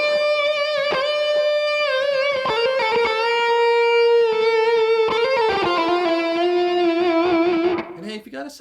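Distorted electric guitar playing intermediate licks with heavy vibrato and a long held string bend, loud and sustained with wavering pitch, fading out at the end.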